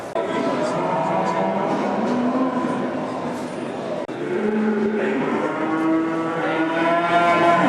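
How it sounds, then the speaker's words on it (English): Cattle moo repeatedly at the Hexham livestock market, where cows, calves and sheep are sold; long, loud, drawn-out bellows overlap one another against a constant hubbub of the crowded sale ring. "we've come along to Hexham livestock market where they sell cows and sheep and that kind of thing"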